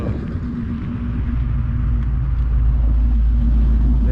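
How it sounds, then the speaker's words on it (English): A modified car engine idles with a deep, steady rumble and a slight unevenness from an idle control fault, heard up close and alone. "I got an idle control problem. Kind of idles off a little bit."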